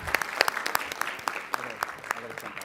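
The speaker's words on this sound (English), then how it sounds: "Let's give them all these amazing students, another round of applause" At a Board of Education meeting, the audience gives students a round of applause: distinct, fairly close hand claps in an uneven patter, with voices murmuring underneath.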